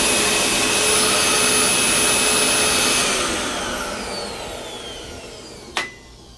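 An old vacuum cleaner with no working belt and a freely spinning brush roll runs alone with a loud, steady whine and hum that slowly drops in pitch and volume, then ends with a brief knock.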